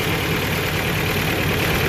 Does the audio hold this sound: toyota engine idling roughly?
yes